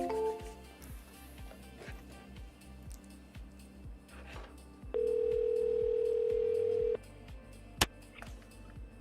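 A phone line plays dial and call tones while a seller is being called back: a mid-distance low pulsing pattern, then a steady two-second tone and a short click, with no talk.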